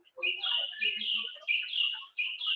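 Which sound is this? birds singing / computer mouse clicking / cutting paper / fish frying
birds singing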